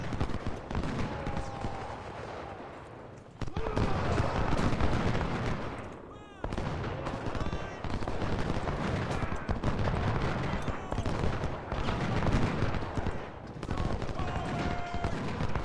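Musket volleys and artillery fire thunder through a Civil War battle at Cold Harbor in the strategy game Ultimate General: Civil War, as dense, continuous rattling gunfire with heavy booms and brief lulls, with a voice talking over it at times.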